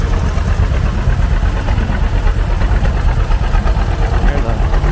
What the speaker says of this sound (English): There's a good looking,